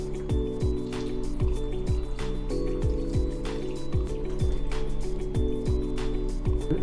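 Cold store-bought natural mineral water pours into a fruit wine kit vessel, a continuous gurgling fill with repeated glugging pulses that fall in pitch as the bottle empties.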